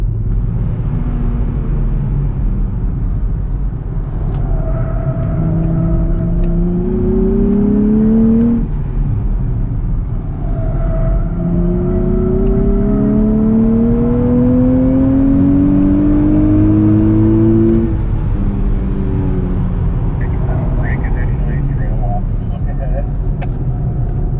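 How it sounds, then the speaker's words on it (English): A 2023 Nissan Z Performance engine revs repeatedly on a race track, pitch sweeping upward through the gears then dropping on shifts, loud and close, with a constant roaring drone underneath. "We'll let you guys just enjoy the engine note and the driving experience"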